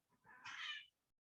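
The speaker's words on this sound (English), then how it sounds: "I don't know if you can hear my cat meowing, but she's meowing" A pet cat gives a single quiet, drawn-out meow that rises and then falls away, heard alone against near silence.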